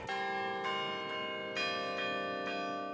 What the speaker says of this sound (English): The bells ring every 15 minutes and play Westminster chimes.